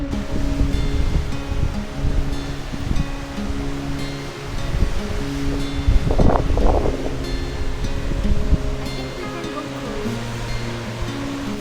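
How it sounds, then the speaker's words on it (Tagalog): A steady broadband rush of water at Rainbow Falls, Kerikeri, New Zealand, roars continuously in the background, with wind buffeting and a voice speaking over it at times. "Ngayon pala naririnig ko na yung tunog ng falls."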